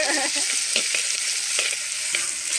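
Tomatoes sizzle and fry steadily in a hot pan for a fish curry, a dense continuous crackle with a few soft stirring scrapes, close and fairly loud, with no talking.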